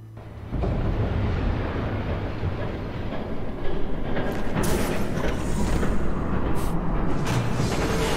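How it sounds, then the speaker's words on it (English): A train rumbles past in a Batman video game, a loud sustained roar and rattle that starts abruptly and keeps building with clanking bursts, no talk. "There's a train coming."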